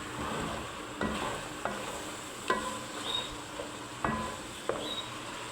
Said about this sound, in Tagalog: Kailangan lang natin madurog yung kalabasa na yan.